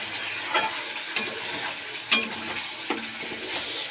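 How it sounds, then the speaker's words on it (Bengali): Spice paste frying in oil in a pan for a red fish curry, a soft steady sizzle punctuated by several brief spatula scrapes and faint clinks, close and without voices. "মশলা কষানো হয়ে গেছে ভালো করে সাইড দিয়ে তেলও ছেড়ে এসছে"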